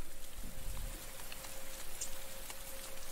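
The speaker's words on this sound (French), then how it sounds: "Ah, il commence à pleuvoir là." Rain begins falling at night near Shimultala, India, a steady patter of drops on surfaces with a broad hiss, plus a faint constant hum in the background.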